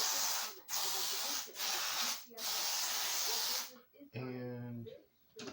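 An aerosol can hisses in several long, loud bursts sprayed around a room, separated by brief pauses, followed by someone speaking quietly.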